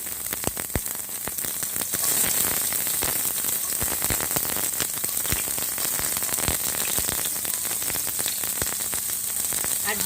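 Chopped onion and coconut frying in a few spoonfuls of cooking oil in a nonstick pan, a steady dense sizzle with crackling pops that continues at an even level throughout.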